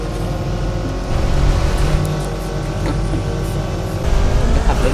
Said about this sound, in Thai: เป็นการขับรถเฉยๆครับขับรถเรื